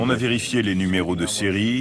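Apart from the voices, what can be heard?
None of the usual background noises is heard.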